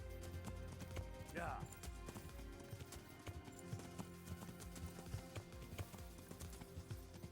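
Hooves clip-clop in a quick, steady rhythm through a game soundscape, with a brief horse whinny near the start and talking over the top.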